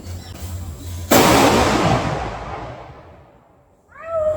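A Diwali firecracker bursts with one sudden loud bang, followed by a long crackling, fizzing decay that slowly fades; a cat meows close by at the end.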